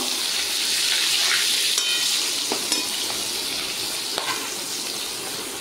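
Hilsa fish fry in hot oil in a pan, a steady, loud sizzle with a few faint clicks of stirring and no talking.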